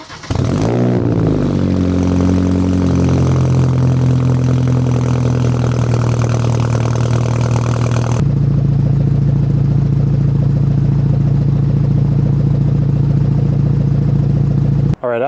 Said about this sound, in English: I'm not supposed to show you guys the sound of this car revving